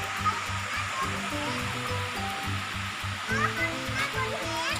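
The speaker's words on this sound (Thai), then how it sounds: "อันนี้จะเป็นลำธารเล็กๆขึ้นมา" Water rushing in a small stream at Pha Tat waterfall in Thailand, a steady close wash of flowing water, while people talk over it.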